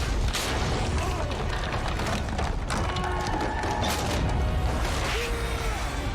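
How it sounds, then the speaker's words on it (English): A big explosion in the video game Dead Space 3 bursts out amid dense, roaring game noise, with heavy booms and crashing debris layered through a loud, continuous wash of sound. "That's a big explosion."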